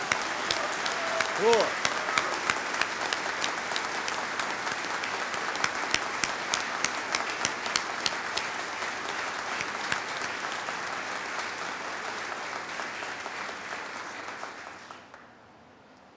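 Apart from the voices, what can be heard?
applause for soldiers of the 10th Mountain Division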